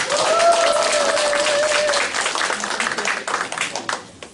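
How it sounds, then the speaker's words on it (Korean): A Korean awards-ceremony audience breaks into loud, sustained applause, dense clapping filling the whole span and easing slightly toward the end, with a faint tone from the sound system over it early on. "자, 큰 박수 한번 주세요."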